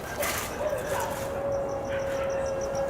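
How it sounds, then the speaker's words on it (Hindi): Dogs bark and yip at night in repeated short bursts, moderately distant, over a steady background hum with a sustained tone running through. "जानवर भौंक रहे हैं।"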